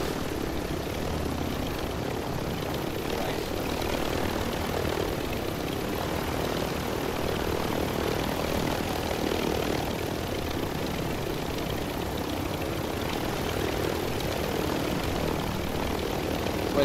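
Helicopter in the video game Warzone flying high overhead, a steady continuous rotor and engine drone holding at even loudness throughout, with no talk over it.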